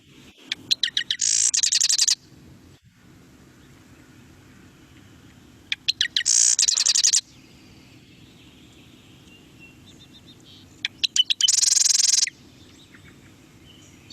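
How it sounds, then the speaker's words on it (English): A marsh wren sings three short bursts of song several seconds apart, each a rapid buzzy, rattling trill preceded by a few clicks. The song sounds fairly close against a quiet background. "here's what a marsh wren song sounds like"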